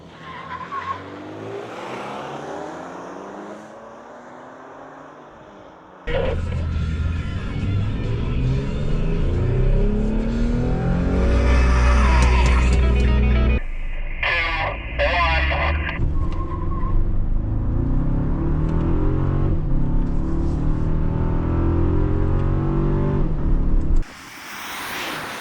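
Third-generation and fourth-generation Toyota Tacoma trucks launching in a drag race, with tires squealing and engines revving hard. The roar rises abruptly partway through, stays loud for a long stretch, then cuts off near the end.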